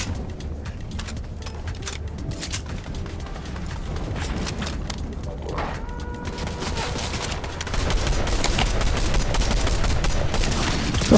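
Rapid bursts of gunfire from the video game Fortnite crackle continuously, dense overlapping shots growing louder toward the end, with no talk over them.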